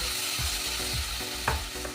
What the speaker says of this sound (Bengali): এবার একটু জল দিয়ে মশলাটা ভেজে নেব